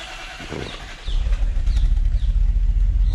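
An engine turns over and catches, settling into a low steady rumble that continues to the end.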